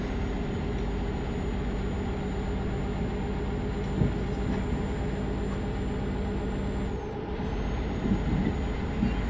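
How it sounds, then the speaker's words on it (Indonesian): Scania R truck in an Indonesian trucking video game, its engine a steady low drone while driving, joined by a continuous rail-like rumble and a few soft knocks, with no talk. "Scania R ini bos kencang sih enggak tapi stabil"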